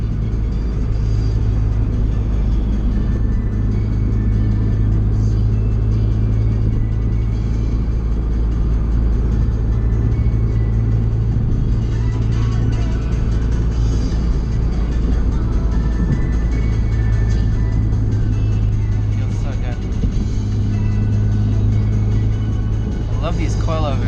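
Car cruising at about 80 in fifth gear, final drive changed and fitted with stiff coilovers, a loud, steady low engine and road rumble inside the cabin, with someone talking over it.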